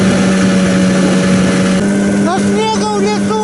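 A boat motor fitted with a 7.5 cargo propeller runs steadily while travelling, a loud continuous hum with a rising whine in its pitch partway through.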